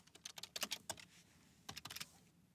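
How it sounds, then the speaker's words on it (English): Rapid clicking of computer keyboard keys in two quick bursts separated by a short pause, close and fairly crisp, with no voices. "I can start typing and then just hit Tab to go to the next cell"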